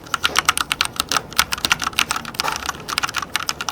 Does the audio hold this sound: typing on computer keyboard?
yes